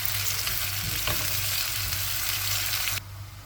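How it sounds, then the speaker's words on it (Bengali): Papaya curry frying and sizzling in a pan on a stove, a steady loud crackle with a soft stir near the start, dropping slightly quieter toward the end. "পেঁপে তরকারিটা বসিয়ে দিলাম"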